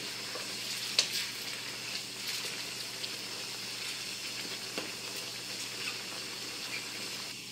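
Squid cooking Provençal-style in a covered pan gives a steady, bright sizzle with spitting water, a sharp pop early on and scattered crackles throughout, at moderate close range with no talking.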